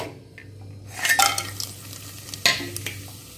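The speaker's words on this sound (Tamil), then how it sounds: "இதெல்லாம் எண்ணெயில் பொரித்து போட்டுடலாம்." Whole spices such as bay leaf, star anise and stone flower frying in oil, a soft sizzle broken by a few metal clinks and scrapes of a spoon against the pot.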